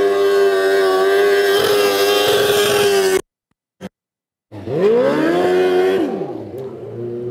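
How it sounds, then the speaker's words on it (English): A race car engine at an IMS Winter Series race screams on the rev limiter, cuts out abruptly with a brief blip, then revs back up and settles. "As you can hear, right up on the rev limiter."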